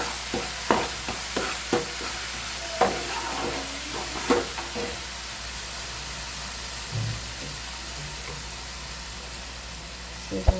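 Dabeli masala with coriander fries in a pan, a faint, steady sizzle under a low background hum, broken by a series of sharp spatula taps and scrapes in the first half.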